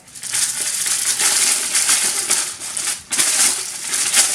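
Baking paper is crumpled into a ball by hand for cake mix cookies, giving close, continuous crinkling and crackling with brief pauses and a sharp burst near the end, no voices.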